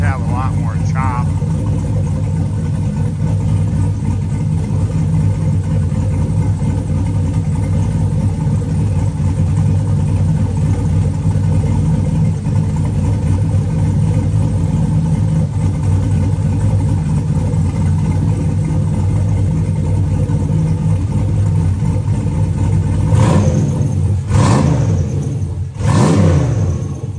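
A Chevrolet 4.8 turbo V8 with an Elgin 1838P Trick Flow 216/220 cam idles loud and close, a steady rumbling lope with a slight chop, followed near the end by a couple of brief revs.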